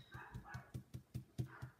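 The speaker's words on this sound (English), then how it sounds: "Now our dogs are barking." Several dogs bark in a steady series of sharp, fairly distant woofs, about eight in under two seconds, with no talking.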